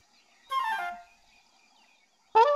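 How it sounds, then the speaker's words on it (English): Cartoon monkey call in a children's animated show, a short warbling whoop followed after a pause by a second sharp, bright cry, isolated against near silence. "That sounds like a monkey."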